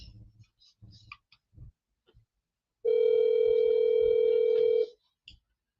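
A steady telephone tone sounds for about two seconds while an outgoing call is placed, framed by soft clicks and faint handling noises before and after.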